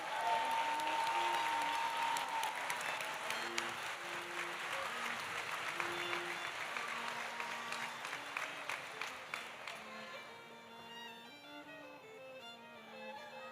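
Sustained applause from a large audience at a law school commencement ceremony for the class of 2026, loud and dense at first and thinning out toward the end, with a few scattered claps and some faint crowd voices mixed in.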